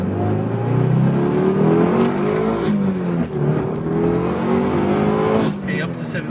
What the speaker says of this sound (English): we're going to go through all the gears and also rev it up just a little bit and go through that